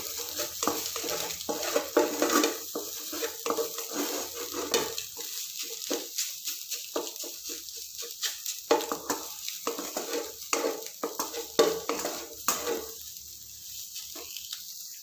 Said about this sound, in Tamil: இப்போ எல்லாத்தையும் சேர்ந்து கலந்து விட்டுருங்க.